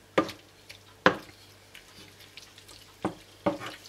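Potatoes in a pot over high heat being stirred, a few sharp scraping clatters of spoon against the pot spaced irregularly over a soft sizzle, close and fairly loud.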